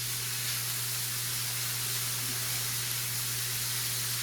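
Beef for cheesesteak sliders sizzles in a pan over high heat, a loud, steady, unbroken hiss with a low hum underneath and no voices.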